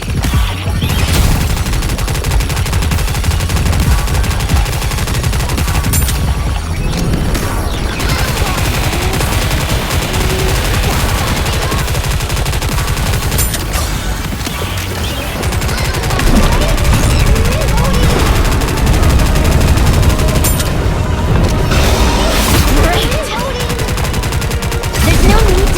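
Rapid continuous gunfire rattles throughout a Goddess of Victory: Nikke mobile battle, loud and dense automatic bursts with brief lulls, overlaid by game music and occasional voice lines.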